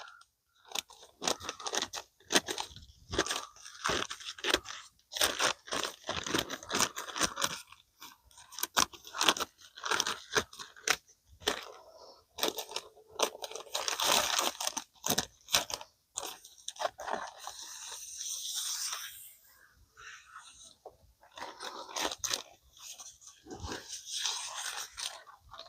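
Plastic greenhouse sheeting on a garden bed cover is cut with repeated crunchy snips and crinkling plastic, irregular and close, with no talking.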